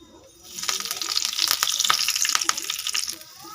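Curry leaves hitting hot oil in a frying pan while making a Telugu egg and onion masala, a sudden bright crackling sizzle that swells, spits in sharp pops, then settles.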